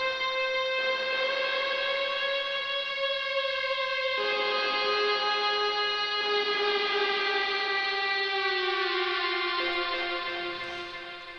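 A West Coast-style synth lead one-shot for an R&B beat, a bright, buzzy sustained tone that steps and bends in pitch over about eleven seconds, playing alone before tapering off at the end.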